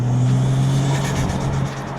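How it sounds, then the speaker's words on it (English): Toyota 1JZ engine fitted with an HKS Racing Suction intake and HKS exhaust, a loud close droning hum with steady low engine tone and a smooth rising whir, no talking. "Sounds really good. Boys, I'm loving this HKS intake with the HKS exhaust."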